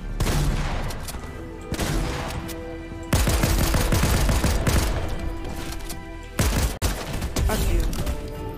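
Gunfire bursts in the Fortnite video game, with loud, dense shots in clusters and a heavy boom near the seventh second, mixed with game sounds and brief voices.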